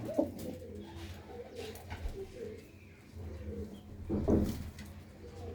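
Pigeons coo in low soft bursts, with a louder coo near the start and another toward the end, close by and over a constant low hum of the loft.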